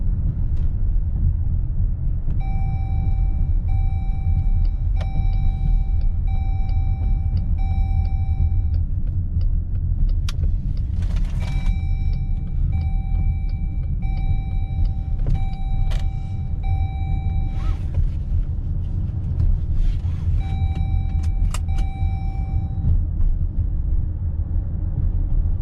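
A Chrysler Pacifica with a suspected alternator fault idles steadily, its low engine rumble continuous throughout, with faint high electrical whines coming and going on top and no one talking.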